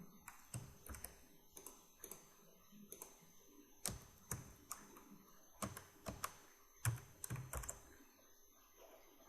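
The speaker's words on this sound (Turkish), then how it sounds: "Bakın tab tuşuna basıyorum. Ctrl V diyorum." Computer keyboard keys are pressed in short, quiet bursts, the Tab key followed by Ctrl and V, repeating as scattered light clicks with pauses between them in a quiet room.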